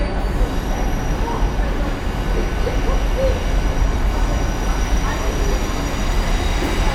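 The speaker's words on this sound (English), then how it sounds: "in comes our northern service to take us to Sheffield" A Northern Class 158 diesel train pulls into Leeds station, a steady rumbling roar of wheels on rails with faint squeals rising over it, continuous and close throughout.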